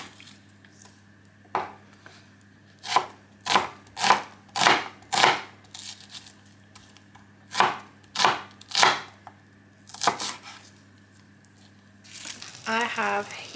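A knife chops onions on a board in a kitchen, with about a dozen crisp, separate strikes in uneven bursts, close up and fairly quiet. A brief rustle comes near the end.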